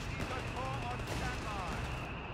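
A high-explosive artillery barrage in a video game rumbles as dense, continuous crackling blasts that merge into a steady roar, with a burst at the very end.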